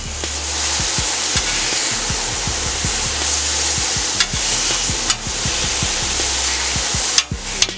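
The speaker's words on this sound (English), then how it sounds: "And then I put my second batch on here, so that's cooking away" Chicken shawarma pieces sizzling loudly on a Steelmadeusa griddle, a steady close hiss broken by frequent spatula scrapes and taps against the flat steel, with no talk.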